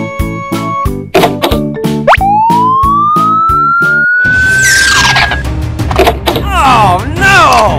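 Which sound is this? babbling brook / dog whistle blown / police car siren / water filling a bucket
police car siren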